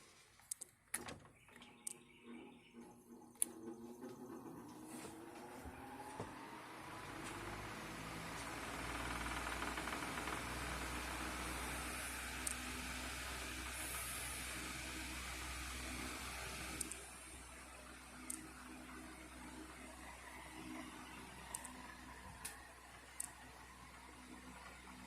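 A Galaxy 16-inch window fan with a sleeve bearing starts up in exhaust mode, its steady whirring hum rising over several seconds and holding through the clip, with scattered clicks and knocks, no talking.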